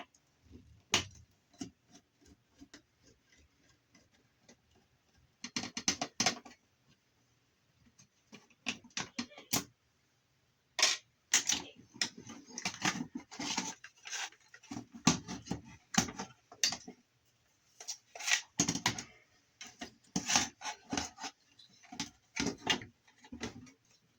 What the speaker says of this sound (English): It looks like this board is held in by screws that are screwed in on the bottom. Yep, so let's take those out.